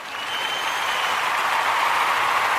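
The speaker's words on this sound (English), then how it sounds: "Let's give Mr. Wally a round of applause." An audience at a live show applauds in a dense, continuous wash of clapping that swells at the start and holds steady at full strength.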